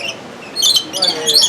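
Lorikeets squawk and chirp in a zoo aviary, bursts of shrill calls coming in clusters after a quieter start, close and fairly loud.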